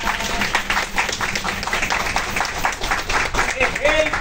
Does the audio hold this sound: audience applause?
yes